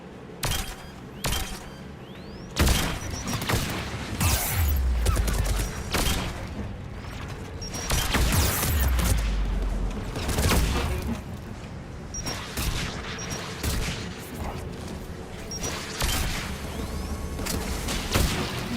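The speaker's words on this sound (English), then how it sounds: "There! The guns protecting the tower!" Defence guns guarding the tower in Mass Effect 3 fire loud, sustained volleys of booming shots, with sharp cracks and mechanical clanks scattered across nearly twenty seconds of heavy combat noise.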